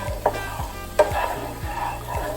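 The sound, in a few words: stirring miso into melted butter and olive oil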